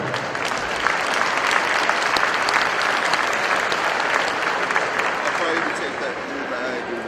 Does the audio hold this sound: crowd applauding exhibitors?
yes